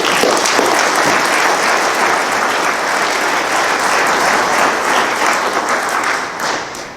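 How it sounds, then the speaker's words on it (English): Loud, sustained applause from a large audience at a bass fishing Hall of Fame ceremony, a thick wash of clapping that holds steady before tapering off at the end. "I want to lead a round of applause for Ray Scott."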